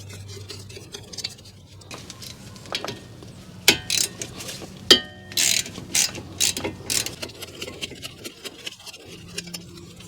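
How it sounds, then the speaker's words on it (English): Long-handled ratchet turning a 14mm socket on Lexus RX300 front brake caliper bolts, giving faint clicks and metallic ticks at moderate distance, with a few sharper knocks midway and no talk. "I'm going to use a 14mm socket here on a long-handled ratchet."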